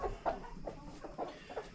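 A broody hen on a small Tennessee homestead clucks in a series of short, soft, evenly spaced calls at close range, with no talking over it.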